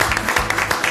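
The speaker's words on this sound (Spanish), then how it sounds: "¡Aplausos!" Steady, dense applause from a television studio audience after a correct answer on a quiz show, loud and continuous through the short moment.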